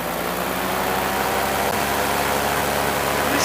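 Paramotor engine droning steadily in flight, a continuous loud buzzing hum with wind noise and no breaks.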